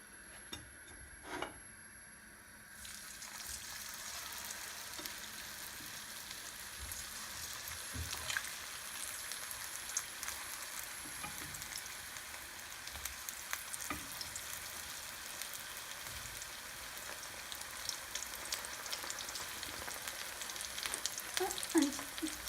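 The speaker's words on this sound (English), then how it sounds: "Now we're going to fry the paneer." Corn-flour-coated one-inch paneer blocks deep fry in hot oil, a steady dense sizzle and crackle running throughout, with a brief louder burst near the start and no voices over it.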